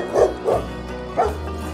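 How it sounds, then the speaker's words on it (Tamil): A cartoon dog in a Tamil kids' animation barks three times, two quick close woofs followed by a third after a short pause. "நாய் குறைக்கிற சவுண்டு கேக்குது"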